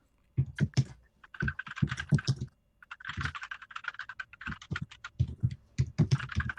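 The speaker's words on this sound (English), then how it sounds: "all I can hear is somebody typing away on their computer very furiously" Rapid typing on a computer keyboard, close and crisp, with quick clustered bursts of keystrokes separated by brief pauses.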